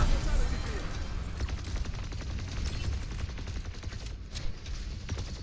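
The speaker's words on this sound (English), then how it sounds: "Randomly SMGs out of nowhere." Rapid, dense SMG bursts crackle continuously in an Overwatch 2 match, loud and close, with voices faintly mixed underneath.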